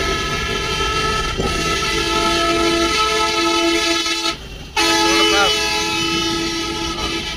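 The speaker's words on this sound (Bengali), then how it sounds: "টানা হর্ন দাও এখানে হর্ন ব্যবহার করো" A truck horn blares in long sustained blasts, loud and close, cutting out briefly before sounding again, with engine rumble beneath.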